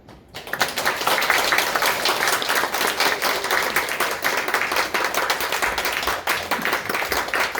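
A church congregation applauds vigorously, and a dense burst of hand claps swells up quickly and holds steady for about seven seconds with no talk over it.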